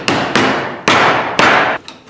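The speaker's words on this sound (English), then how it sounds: "center mark the ends, tap in live center" A hammer taps a lathe live center into the end of a cut-down wooden 2x2, four sharp, close, loud strikes at an even pace with a lighter fifth tap at the end.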